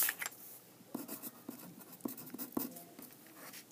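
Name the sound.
writing a name on the back of paper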